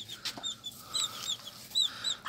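A hen clucks softly in short, scattered notes over quiet background noise, with a few higher squawky calls.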